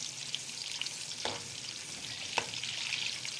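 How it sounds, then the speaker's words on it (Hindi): Sliced onion rings frying in hot oil for a chana or matar pulao, a steady broadband sizzle with a few brief crackles and pops, close and alone. "अब हम इसमें गोल कटी हुई प्याज डाल देंगे और इसको करेंगे अच्छे से ब्राउन।"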